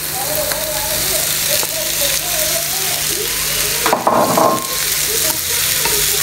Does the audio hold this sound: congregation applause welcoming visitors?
no